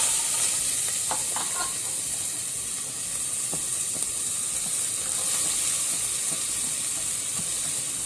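Onion hissing in one to two tablespoons of hot oil as a tempering for mutton sukka, a dense continuous sizzle with occasional faint stirring clicks, no voices.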